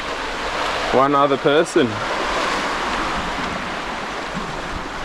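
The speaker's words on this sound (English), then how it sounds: "we found this awesome beach down here in the cliffs" Waves wash onto a cliffside beach on the Amalfi Coast with a steady, broad roar and some wind, while one person speaks briefly near the start.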